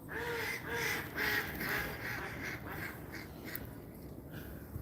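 Ducks quack at a small fenced duck pond along the Venice canals, with repeated nasal calls in a steady run through the first few seconds, then fainter calls over outdoor background noise.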